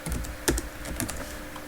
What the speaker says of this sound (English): so just gonna type